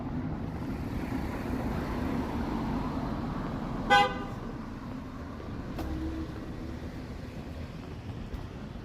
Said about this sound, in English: I don't know what that honk was about.